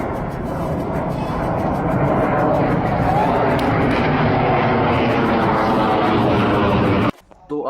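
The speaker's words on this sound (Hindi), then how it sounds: "ये जो फाइटर जेट आया था ये था सुखोई 30" A Sukhoi 30 fighter jet passing overhead above Jabalpur, a loud continuous roar that fills the air for several seconds before cutting off abruptly near the end.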